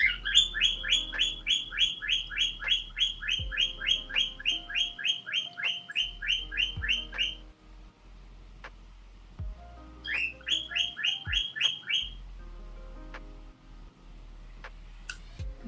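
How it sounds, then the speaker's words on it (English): A pet bird chirps in rapid, repeated bursts of bright, high trills, loud and close, with a long pause before a second run of chirps resumes. "Apparently my bird wants to chime in too."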